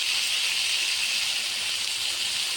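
Vegetables sizzle steadily in a hot pan with turmeric and ground cumin, lightly fried for a Bengali fish curry with bottle gourd greens: a constant, even frying hiss with no pauses, close and moderately loud.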